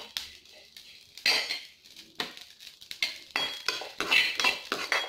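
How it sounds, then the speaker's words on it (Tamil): Fennel seeds and poppy seeds dry-roasting together in a pan for homemade masala, with a metal spoon scraping and clinking against the pan in irregular bursts, close and clear, with no voice. "சோம்பு கசகசா 2 ஒன்றா போட்டிருக்கேன். அதையும் நல்லா வாசம் வர அளவுக்கு வறுத்துக்குவோம்."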